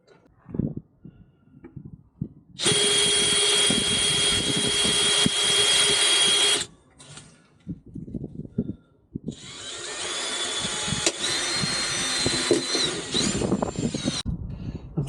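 Two bursts of a power drill whirring while driving a self-tapping bolt, each several seconds long and loud, close by, with clanks and handling noises in between.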